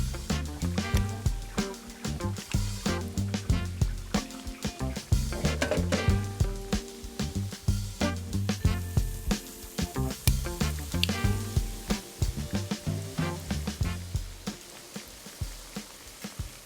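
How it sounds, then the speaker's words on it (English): Food sizzles and crackles in hot oil, a continuous bubbling hiss with frequent pops, heard up close under a low background rumble. "Love a bit of deep frying."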